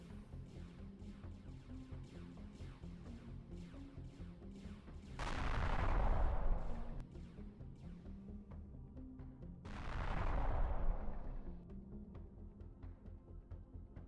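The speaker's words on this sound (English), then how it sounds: "I'm hearing lots of explosions," Explosions and turret fire rumble during an attack on a Zirax orbital outpost in the space game Empyrion, two muffled booming bursts swelling and fading over a busy stream of faint, distant gunfire.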